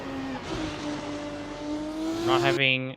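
A race car in a racing video game roars past, its engine note rising steadily before a sharp cut, loud and close with a commentator's voice faintly underneath.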